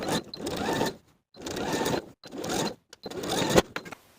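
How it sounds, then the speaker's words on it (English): Short runs of a sewing machine stitching a seam on a summer dress panel, four quick bursts of whirring with brief silent gaps between them, close and moderately loud. "Sew the panel in place on this side with a 1/2 inch seam allowance."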